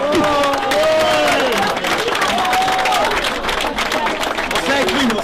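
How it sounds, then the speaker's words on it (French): Outdoor crowd at a soapbox race applauding and cheering, continuous loud clapping with a shouting announcer and voices over it throughout. "Encore un tonnerre d'applaudissements pour toutes ces personnes qui osent faire des choses que personnellement je ne ferai pas."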